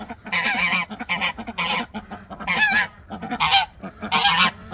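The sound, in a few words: pet goose honking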